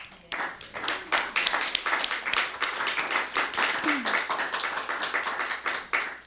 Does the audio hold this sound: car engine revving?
no